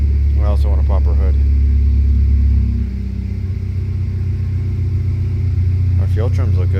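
A 2013 Cadillac ATS with the 2.0L turbo four, misfiring and running rough, idles as a steady low uneven rumble close by, while a person talks over it at the start and again near the end.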